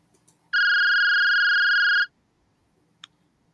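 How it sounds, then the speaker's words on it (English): A phone rings once with a single steady electronic tone lasting about a second and a half, clear and close against quiet ambience, followed by a faint short blip. "Your phone rings."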